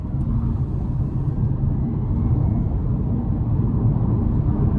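A 2023 Chevrolet Bolt EUV LT, a front-wheel-drive electric car, accelerates hard, heard from inside the cabin as a steady, loud low rumble of road and drivetrain noise with no speech.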